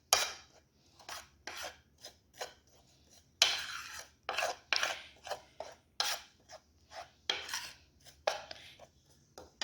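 Dry spices being stirred and scraped together in a bowl for beef pasanda, a series of short gritty rasping strokes in an irregular rhythm, close and fairly quiet, with brief pauses between scrapes.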